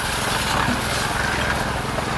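A concrete mixer churns cement, gravel and sand at a Philippine house-building site, a steady motorized drone with a rough rattling texture running continuously and fairly loud throughout.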